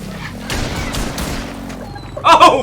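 Gunfire in the video game Laika: Aged Through Blood, a short burst of loud, close shots and impacts, followed by a sharp high-pitched burst near the end.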